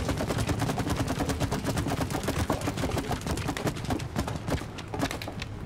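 Rapid gunfire from the It Takes Two video game rattles continuously, a dense, steady stream of loud shots with no pause.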